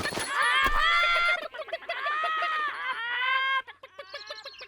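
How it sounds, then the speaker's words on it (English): Cartoon hens in Noddy in Toyland cluck and squawk loudly in overlapping bursts near at hand, with a brief sharp knock early on. "And mind you don't cluck too much or you'll put me off my driving."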